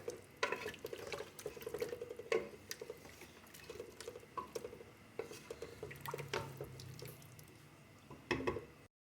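Chopped bottle gourd is stirred into a beef curry in a pot, with close, intermittent wet squelches, spoon scrapes and light clinks against the metal.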